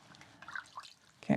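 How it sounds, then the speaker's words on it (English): Warm water dripping and splashing softly into a bowl during a body scrub skincare routine, a few faint drips followed by one louder close splash at the end. "we take back our bowl of warm water"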